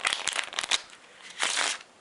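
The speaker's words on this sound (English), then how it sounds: "I'm just going to give the cards a shuffle." A deck of playing cards is shuffled up close during a card magic trick: a rapid papery flutter of riffled cards for most of the first second, a brief pause, then a second crisp riffle burst, with no talking.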